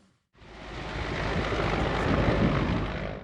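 Broadband rotor and engine roar of an upgraded Mi-8 transport-combat helicopter, rising from near silence to a loud, steady drone that holds close and continuous to the end.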